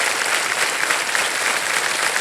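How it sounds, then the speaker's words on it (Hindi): A studio audience on a TV quiz show breaks into steady, loud applause, a dense wash of clapping held evenly for a couple of seconds with no speech. "तालियां बज जाए"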